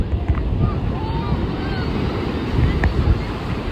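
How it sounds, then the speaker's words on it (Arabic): Rough, churning sea waves wash continuously in a steady roar, with wind buffeting the microphone and no clear breaks. "البحر هايج لواحد الدرجه ما يمكنش"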